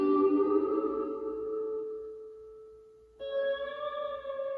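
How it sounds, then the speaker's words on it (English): A sustained electric guitar chord rings out with heavy reverb, fading slowly, then a new chord slides up in and sustains brightly. "So slide up to that and play it for us, Paxton."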